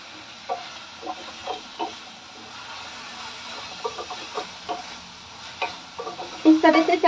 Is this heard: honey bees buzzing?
no